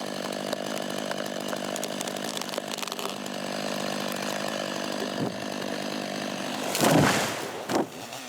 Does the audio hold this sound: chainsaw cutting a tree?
yes